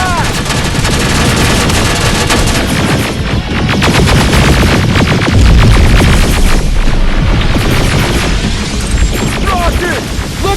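Gunfire in the Terminator Resistance video game: loud, dense bursts of rapid automatic shots with heavy booms, nearly constant throughout, while voices shout between the volleys.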